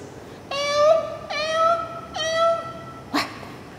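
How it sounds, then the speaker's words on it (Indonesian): A kitten cries with three clear, drawn-out meows in a row, close and fairly loud, each tapering off, followed by a short sharper squeak near the end. "Suara anak kucing menangis."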